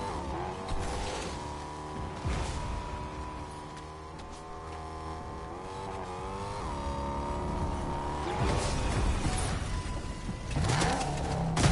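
Car engines in a video game match, a continuous revving engine drone that rises and falls in pitch, with tire noise and a few sharp impacts near the end, moderately loud.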